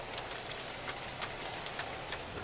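Aristo model railroad gondolas and tank cars rolling smoothly along the track, a steady close hiss with soft, faint clicks as the wheels pass over the rail joints.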